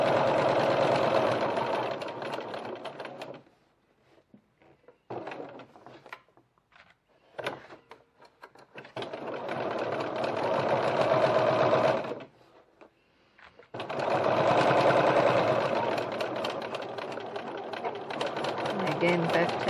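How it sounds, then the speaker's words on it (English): A sewing machine stitches a slip pocket on a bowler bag in long, loud, steady runs of buzzing stitching, close to the listener. Quiet pauses separate the runs. "and stitch the rest of your pocket."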